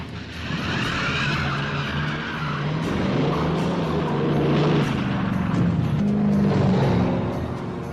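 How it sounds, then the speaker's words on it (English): A black sedan passes close by at a dockyard pier, its engine and tyre noise swelling steadily then easing off in a continuous drive-by with no talking. "Just as we spot the Enola Gay, a black sedan drives past us on its way out."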